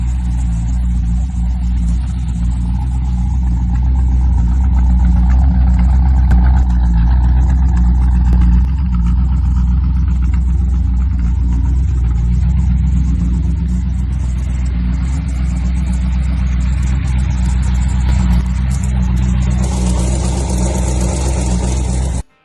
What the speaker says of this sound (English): This 1934 Plymouth is powered by a 327 V8 engine paired with an automatic transmission.